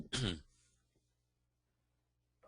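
A single sharp cough from a person getting over a cold bursts out at the start, followed by quiet low hum, with a faint start of another sound at the very end.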